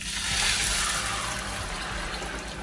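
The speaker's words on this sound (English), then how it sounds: "So I'm gonna add a liter of water, which is double my rice" A liter of water poured into a pot for pilau rice, a continuous close rushing splash that stays steady for a few seconds with no talking.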